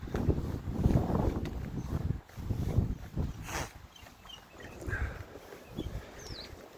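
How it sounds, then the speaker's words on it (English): Strong wind gusting outdoors during a frigid polar vortex, buffeting the microphone in low rumbling surges that rise and fall, with faint bird calls in the background and no speech. "this wind is ripping out here."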